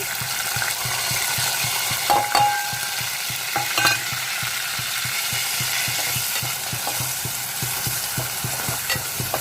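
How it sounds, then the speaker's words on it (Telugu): Dried fish fries in hot oil, a dense continuous sizzle with busy scraping and stirring clatter from a spatula in the pan, fairly loud and without talk. "ఇప్పుడు ఎండి పరిగులు వేసేసుకుందాం వేయించుకోవాలి"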